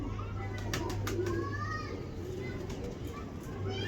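A pair of Salara pigeons cooing softly amid a steady low hum, with children's voices and chatter close by throughout.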